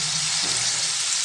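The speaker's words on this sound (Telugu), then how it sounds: "ఇది మంచిగా రొయ్యలకు పడుతుందండి మసాలా, అందుకని కొంచెం సేపు ఫ్రై అవ్వాలి" Prawns fry in masala with garlic and tomato, giving a close, steady sizzle and crackle with a brief stir partway through.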